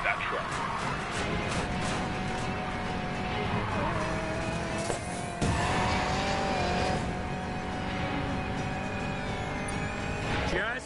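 Racing cars and squealing tires in a highway heist chase from Need For Speed Payback, engines revving and whining loudly throughout with tire screeches and passing vehicles, while voices talk over the action.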